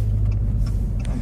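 A Dodge Challenger Hellcat wide body's engine rumbles deep and loud at close range, a steady low growl with faint voices in the background.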